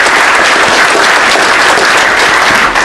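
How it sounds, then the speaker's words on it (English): Dense, loud audience applause fills the whole stretch, a continuous close wash of many hands clapping at a political announcement event. "a round of applause for Bob and Sean"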